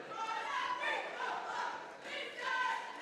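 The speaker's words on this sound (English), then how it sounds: "Battle Creek chanting that faithful cheer" A Battle Creek crowd at a basketball game chants a cheer in unison, a rhythmic mass of voices rising and falling in waves, heard from a distance inside the gym.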